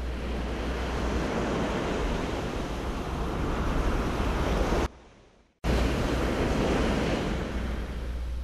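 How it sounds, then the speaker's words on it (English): Ocean waves break and surge along the wild California coast, a loud, steady wash of surf that drops away briefly near the middle before returning full strength, with no voices. "being continually buffeted by the onslaught of wave after wave of salt-filled foam of an ever-changing but never-ending sea"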